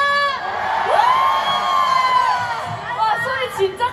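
A large festival crowd at a university campus concert shouts, whoops and cheers loudly and continuously, with high children-like yells rising above the roar.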